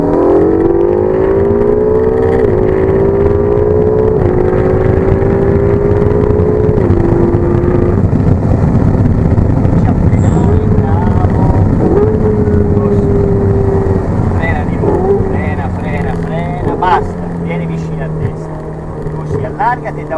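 A Ferrari 488 GTB on the Magione race track, its engine droning steadily and rising in pitch as it accelerates, then easing near the end, with an instructor's voice talking over it throughout.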